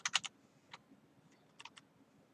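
Typing on a computer keyboard while writing JavaScript code: a quick cluster of three or four crisp key clicks, then a lone tap and another short run of keystrokes, quiet and close.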